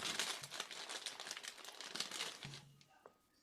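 A military jacket with zips crinkles and rustles as it is handled up close, a continuous dry crumpling that fades toward the end with a faint thump.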